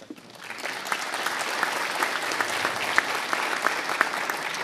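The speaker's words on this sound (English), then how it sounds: "Let's give them another round of applause" Audience at a graduation ceremony breaks into sustained applause, many hands clapping steadily and fairly loud, building quickly and holding without voices over it.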